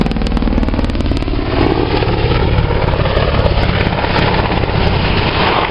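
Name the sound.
Apache helicopter accelerating nose down with a left-hand twist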